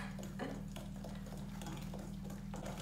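Batter ingredients with baking powder are mixed together in a bowl, a steady scraping and clinking stir running continuously over a constant low hum, close by and moderately quiet, with no speech.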